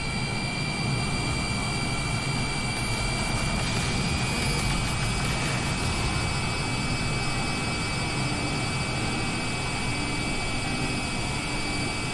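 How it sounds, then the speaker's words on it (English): A plane lands in Microsoft Flight Simulator 2020: the loud, steady roar of a jet engine carries on alone, with a broad rumble and a high whine, for over ten seconds. "Another plane just landed."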